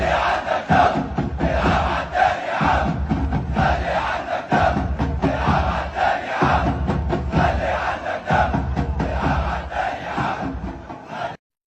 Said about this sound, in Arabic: هتاف جماهير الزمالك للعبتها، ده ايه الجمال ده يا جمهور الزمالك؟